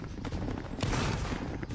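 Musket volley fire in the Roblox Napoleonic Wars game, a dense crackling burst of many shots going off together and rolling on as a sustained, loud fusillade.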